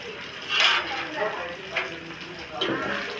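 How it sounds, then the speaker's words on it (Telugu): A spoon clinks and scrapes against a pan as chopped tomatoes are stirred while frying for a chicken curry and bagara rice, with a soft sizzle underneath and a few sharper metal knocks; someone talks over it. "బాగా కలుపుకుంటున్నానండి ఇప్పుడు రెండు నిమిషాలు వేగనియ్యాలండి"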